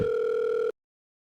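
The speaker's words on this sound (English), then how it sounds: "The dial tone rings on faintly." A telephone dial tone from the Doki Doki Literature Club Blue Skies mod: one steady, loud electronic tone that holds for under a second and then cuts off sharply into silence.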